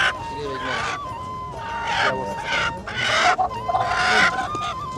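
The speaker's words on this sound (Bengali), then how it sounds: "দুইটা মুরগি আছে দর্শক দেখাই" Chickens cluck and squawk in bursts over a busy background of overlapping conversation nearby.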